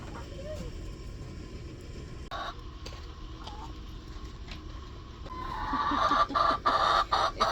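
Chickens clucking in a backyard coop, a steady fowl chatter that grows louder and busier toward the end, with people talking nearby and some scuffing movement.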